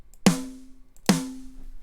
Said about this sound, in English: if it was just a close mic, it would sound like this.